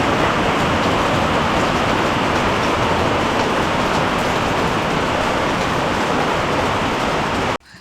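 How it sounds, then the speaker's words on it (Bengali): Heavy monsoon downpour in the mountains around Zuluk, a dense, steady roar of rain that holds loud and unbroken before cutting off abruptly near the end. "লাঞ্চ শেষ করতেই মুষলধারে বৃষ্টি নামলো"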